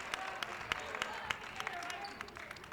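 Crowd at a women's college basketball game applauds with steady, moderate clapping and scattered sharp claps over murmuring, fairly faint and distant.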